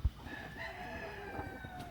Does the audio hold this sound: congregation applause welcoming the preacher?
no